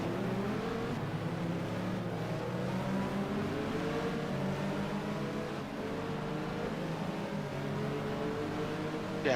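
Race car engine in a racing video game set at the 2000 FIA GT Zolder 500km, droning steadily and loud throughout with a slowly rising pitch as it accelerates, with no voice over it.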